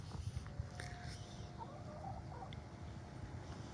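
Soft, scattered clucking of backyard hens at a distance amid low outdoor background noise, with occasional faint chirps.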